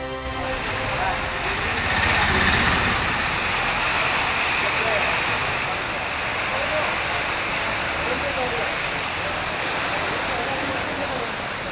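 Steady rain pours down in Chennai, a dense, even hiss of falling water that holds constant throughout, with a voice talking over it.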